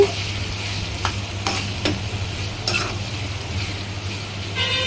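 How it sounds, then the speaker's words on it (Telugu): Garam masala frying with onions and tomatoes for a korameenu fish and okra curry, a steady close sizzle with a few sharp stirring scrapes on the pan. "ఈ మసాలా కూడా ఆనియన్స్ టమాటాలకి పట్టే వరకు వేయించుకొని"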